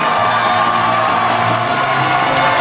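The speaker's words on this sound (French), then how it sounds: "Applaudissements pour la candidate numéro 15." An audience at a regional beauty pageant cheers and whoops for a contestant walking up to the microphone. The crowd noise is loud, dense and steady throughout, with raised voices mixed into the din.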